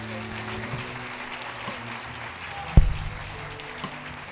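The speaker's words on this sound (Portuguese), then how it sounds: "dá um aplauso para Jesus" Church congregation clapping during a Portuguese-language service, a soft, scattered round of applause under a low hum, with one sharp thump partway through.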